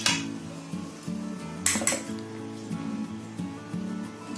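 Spoons scrape and clink against a bowl as chopped carrot, capsicum, cabbage and boiled corn go into a yogurt and mayonnaise mix, in short repeated bursts with a sharper clatter near the middle, under a steady low hum.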